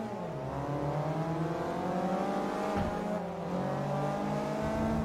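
Ford Fiesta racing on a test track in the video game Forza Motorsport 3, its engine droning and revving up through gears in a steady rising and falling whine, close and continuous with no talking.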